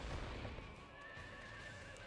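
A horse in Drakengard 2 gives a faint, drawn-out whinny under game ambience and background noise.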